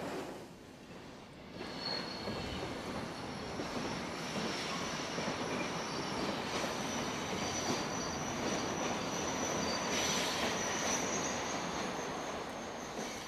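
A Belgian Class 27 electric locomotive hauling a train, a steady loud rolling rumble with wheel noise and a faint high squeal, continuous and close.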